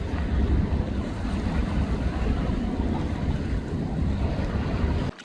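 A New York City ferry passing near a kayak on open water, heard as a steady low rumble with wash and wind buffeting the microphone, continuous and loud before cutting off abruptly near the end.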